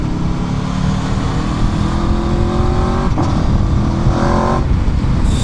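An Aprilia Xtrenta track motorcycle with an 1100cc engine is ridden hard, its exhaust note climbing through the gears with crisp pops and brief dips at each shift, loud and close under steady wind rush.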